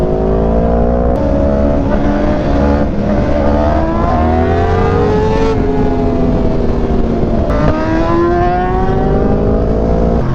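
A Honda CBR1000RRR motorcycle engine roars loud and close, its pitch climbing and dropping through repeated rising revs and gear shifts for about ten seconds.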